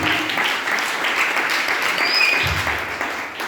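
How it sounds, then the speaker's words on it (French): Church congregation applauding together during a sermon, a dense, steady wash of clapping that fills the space evenly from start to finish. "Est-ce qu'on peut acclamer une fois de plus?"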